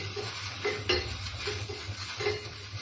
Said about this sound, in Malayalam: പച്ചമുളകൊന്ന് ചെറുതായിട്ട് മൂപ്പിച്ചെടുക്കാം.